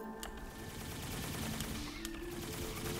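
Turrets firing at enemies in the Dungeon of the Endless video game, a steady dense rattle of distant gunfire bursts over a constant game backdrop, with no one speaking.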